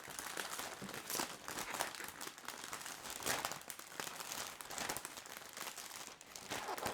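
Cellophane crinkles steadily and close by as it is wrapped around a bottle, a dense continuous rustle with no voices.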